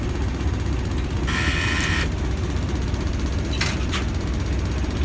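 An SM42 diesel locomotive in its first power notch starts to move, a dense, steady engine drone filling the whole stretch, cut by a brief hiss of air and two short sharp releases near the end, with no talk.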